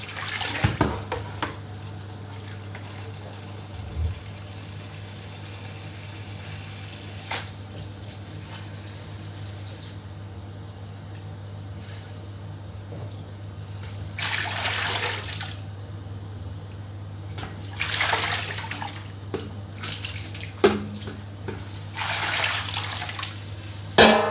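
Tap water rinsing a batch of herbs in a kitchen sink for a stew, a steady close running stream under a low hum, with louder splashing surges as the herbs are swished.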